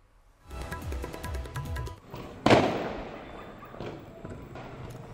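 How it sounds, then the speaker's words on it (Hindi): Firecrackers go off in Jaisalmer, around the Sonar Fort, celebrating RCB's IPL 2025 title win. A whistling rise is followed by one loud nearby bang that fades into a crackling, rumbling tail. "सोनार दुर्ग सहित कई जगहों पर पटाखे छोड़कर जश्न मनाया गया।"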